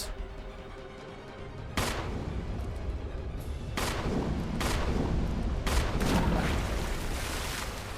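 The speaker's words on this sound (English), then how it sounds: "I don't know if shooting them works." Repeated gunshots in Resident Evil Remake, fired singly with gaps of about a second or two, each a sharp, loud broadband crack over a steady low game rumble, without talk.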